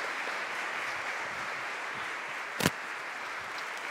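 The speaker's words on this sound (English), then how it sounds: "Round of applause for David." Congregation applause during a Sunday worship service, an even patter of clapping throughout, with one brief sharp burst near the end standing out against the steady sound.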